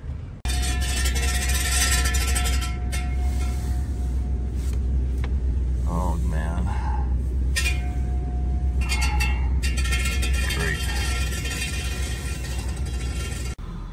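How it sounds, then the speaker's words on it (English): A car with a failing wheel bearing at the tire gives a steady, loud low rumble throughout, with road and wind noise layered on top and a brief speaking voice partway through. "Not sure what exactly that noise is from the tire."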